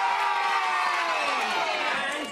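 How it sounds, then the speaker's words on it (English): A studio audience of children cheers in a loud, sustained burst of shouting and whooping that stays full throughout and tapers slightly at the end. "Huge cheer for you!"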